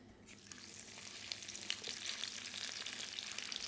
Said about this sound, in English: Make sure they're sizzling up straight away.